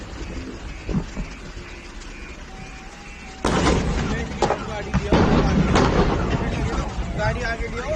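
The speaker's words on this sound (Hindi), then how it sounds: "उनकी साइड एक के बाद एक धमाके हो रहे हैं" LPG cylinders bursting after a tanker struck a truck on the Jaipur-Ajmer highway, heavy booms heard at a distance, with a loud blast midway followed by rumbling and further bangs beneath a constant background roar.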